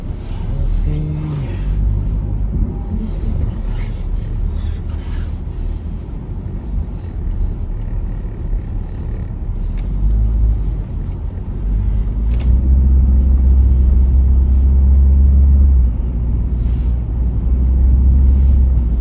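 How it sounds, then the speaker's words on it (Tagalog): A car being driven on a street, its engine and road rumble steady and close throughout, swelling louder and deeper in the second half, with faint scattered noises on top. "drive ko muna itong sasakyan kasi meron lang akong kailangan bilhin"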